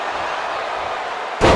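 A kick lands in the SmackDown wrestling video game, a single loud, sharp impact thud arriving at the end after a steady wash of crowd noise.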